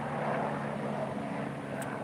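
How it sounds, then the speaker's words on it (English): A helicopter flies overhead, a faint, steady distant engine drone holding through the short moment with no talking. "Let this helicopter fly over."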